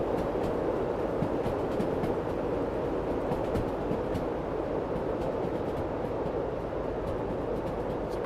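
A train in the Derail Valley Simulator video game rolls along at low speed, heard from outside as a continuous rumble with rhythmic wheel clicks and no talking.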